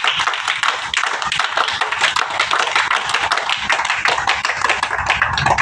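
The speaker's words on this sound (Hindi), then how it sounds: "वीर ताली।" Group of children at a gurukul yagya hall in Haryana clap together in a fast, steady rhythm, a dense, loud, continuous run of sharp hand claps lasting several seconds with no talking.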